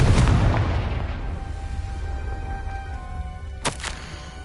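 A Confringo blasting spell from Hogwarts Legacy goes off with a loud booming explosion that decays over several seconds, followed near the end by a brief sharp crackling burst.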